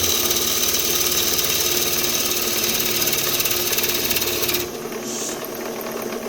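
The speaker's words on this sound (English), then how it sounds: "Shavings peeling off clean." Wood turning on a lathe, shavings peeling off clean: a steady, close mechanical whir with a fine rasping texture that runs continuously, then drops in level near the end as the cut changes.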